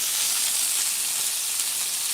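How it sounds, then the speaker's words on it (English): Smash burgers sizzling on a hot griddle, a loud, bright, unbroken frying hiss filling the whole stretch with no voices. "You can hear the nice sizzle of our burgers."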